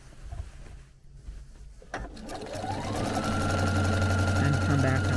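A sewing machine stitching a quilt, with handling noises and a click before the motor starts up and then runs in a steady, close whir.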